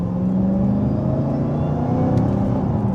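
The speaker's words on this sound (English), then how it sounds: "I'll just give you some noises, right? This is all going to be front engine noise." Dodge Hellcat front engine heard from inside while rolling at about 20 mph, a steady low rumble and whir, loud and continuous with no talk.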